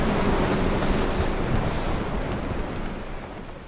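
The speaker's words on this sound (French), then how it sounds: "Le vent hurle tellement qu'on a du mal à s'entendre." Storm wind howling over rough sea waves during a September 1930 tempest, with tuna fishing boats at sea; a dense, continuous roar of wind and surf, loud and close, easing slightly toward the end.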